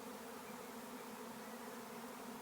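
A honeybee swarm flies back toward its hive box, a steady, even buzzing drone of many bees held at a constant faint level, with no voices.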